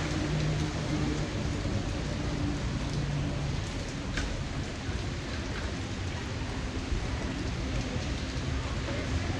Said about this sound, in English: it wasn't raining, but now it came down when I was walking down the block